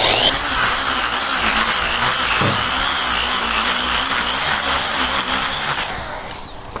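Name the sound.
drill boring a hinge hole in a plywood door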